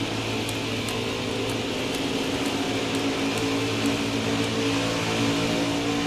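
NASCAR Heat 4 stock cars racing at Daytona, a loud, steady engine drone sustained throughout with a constant roar of race car engines and no voices heard.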